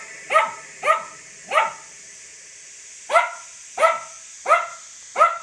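A dog barks repeatedly in short, sharp bursts, three quick barks, a pause, then four more, close and loud with no other voices.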